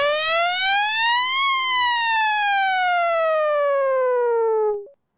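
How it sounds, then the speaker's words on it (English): A loud synthesized siren from the hockey video game NHL 94 sweeps upward for about a second and a half. It then slides slowly downward for about three seconds before cutting off abruptly, heard alone. "That is the exact siren from NHL 94"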